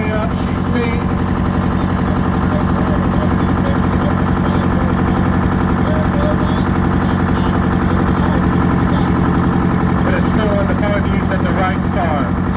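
A 1950 Oliver tractor with a Detroit diesel engine runs at full throttle, a loud, steady, throaty drone that stays close and unbroken throughout.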